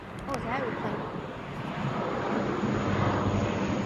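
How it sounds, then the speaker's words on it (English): An aeroplane passes overhead near the railway line at Eastleigh, a steady broad engine roar and rush that holds throughout, with people talking over it. "Oh, it's an aeroplane."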